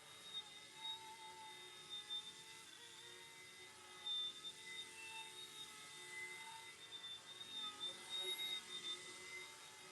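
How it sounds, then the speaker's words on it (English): A small Hero copter toy helicopter flies with a thin, steady high-pitched motor whine and rotor buzz, faint and fairly distant, wavering slightly in loudness over ten seconds. "You want to get a great helicopter that's fun to fly, one of these Hero copters."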